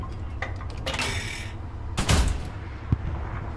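British tank cannon fire in Hell Let Loose: a couple of sharp, fairly loud blasts with short rumbling tails, spaced about a second apart, followed by a smaller thud, with no talk over them.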